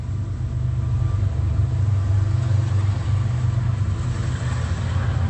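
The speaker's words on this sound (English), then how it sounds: "Ongoing train activity." An Amtrak train passes at night with a loud, continuous low rumble that holds steady throughout, and no voices are heard over it.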